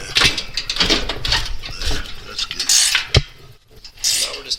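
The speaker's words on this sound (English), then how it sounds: "We're now just tightening them back up." Bolts are tightened on a tractor snowplow frame with gussets, producing close, repeated ratcheting clicks and metallic clanks in uneven bursts, with brief dips between strokes.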